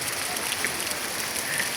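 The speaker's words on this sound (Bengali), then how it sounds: "মেঘ বৃষ্টি রোদ, শ্রাবণের বৃষ্টি।" Monsoon rain falls steadily in a dense, even hiss of drops on surfaces, moderately loud and continuous.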